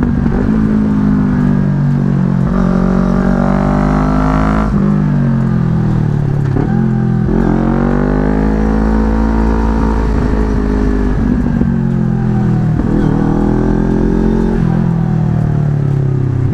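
A big motorcycle fitted with a Villain exhaust from Zero One Moto revs loud and close, its engine note rising and falling in repeated throttle blips over a steady low rumble, with no talking.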